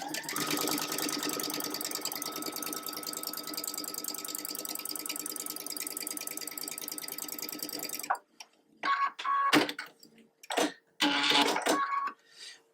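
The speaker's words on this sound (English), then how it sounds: "And then I'm just going to sew off." Sewing machine stitching a quilt block in a rapid, even mechanical run for about eight seconds, close and clear, then stopping, followed by a few short handling sounds.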